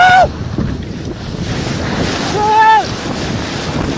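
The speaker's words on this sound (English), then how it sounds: "this cruise ship was on its way to Ireland when it ran into some pretty heavy waves" Heavy waves strike a cruise ship bound for Ireland, a loud, continuous wash of wind and surging water across the whole span, broken by a brief high whine near the start and another in the middle.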